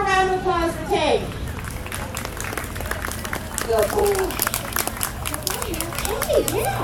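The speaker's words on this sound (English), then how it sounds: "let's have one more round of applause for Tank" A fair crowd's applause and scattered cheers for Tank the horse at a 4-H demonstration, steady and broad, with a few voices talking over it.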